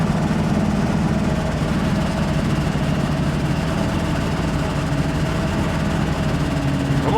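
A 1975 Chevrolet C20 Scottsdale pickup engine runs steadily at a low, rough drone, bogging instead of revving up under full throttle, a continuous heavy rumble throughout with no talk.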